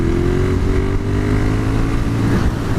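A motorcycle holds a wheelie, its engine revving in a loud, sustained drone with a slowly falling pitch, heard close throughout.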